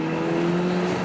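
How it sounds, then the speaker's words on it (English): A 2000 Toyota MR2 Spyder with a turbocharged 2ZZ-GE engine running 10 psi of boost gives a steady, loud exhaust drone with a strong low tone, heard close up and alone. "It's so much exhaust noise"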